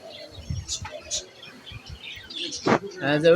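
Pigeons, including diamond doves, and budgerigars with chicks in a bird shop give scattered chirps and soft coos at close range, while someone talks over them.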